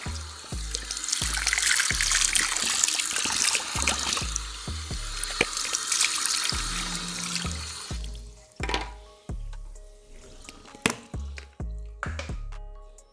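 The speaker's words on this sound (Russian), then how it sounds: "Смачиваем бороду водой." Water from a tap runs and splashes as a beard is wetted, a close, steady gush that gives way to scattered drips, splashes and handling knocks.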